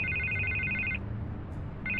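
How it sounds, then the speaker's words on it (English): A telephone rings in Batman: The Telltale Series, two bursts of an electronic ringing tone separated by a short gap, over a low ambient hum. "I can't get the phone to stop ringing."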